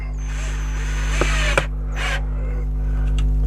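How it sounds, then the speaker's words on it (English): An electric screwdriver drives a screw through a hole into the base of a garden planter, producing a few short whirring bursts over a steady low background hum. "change the setting on the screwdriver, and then place a screw down through that hole that we put, just down to there."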